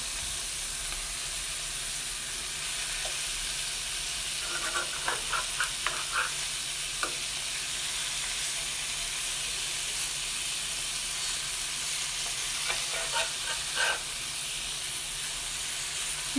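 Garlic butter salmon sizzling in a hot pan just after being flipped, a steady loud hiss and crackle throughout with a few small pops and clinks along the way.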